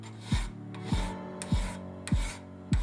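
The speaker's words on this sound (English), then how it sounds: "To sharpen it, I simply filed the edges and then finished it up with a sharpening steel" A metal file rasps along the edges of a cast bronze dagger blade, five steady rhythmic strokes, each with a rough scraping pass and a low thump at the turn, close and alone.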